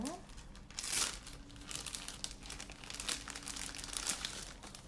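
Thin plastic sheeting from a home hair dye kit crinkles and rustles in bursts while it is unpacked, close to the microphone, with a louder rustle near the start and steady handling after.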